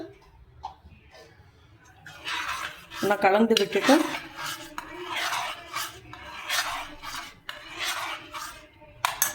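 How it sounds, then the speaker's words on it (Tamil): A spoon stirs cardamom into jackfruit payasam in a pot, giving repeated scraping and rubbing strokes with a clink against the vessel, a faint voice heard briefly early on. "நான் வந்து இப்போ நம்ம இதில் ஏலக்காவையும் சேர்த்து நல்லா கலந்து விட்டுட்டு"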